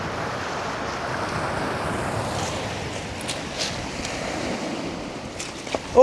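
Sea waves roll and wash in with the incoming tide on a shingle shore near Hurst Castle and the Keyhaven Marshes in Hampshire, a steady broadband rush with wind noise across the microphone and no talking.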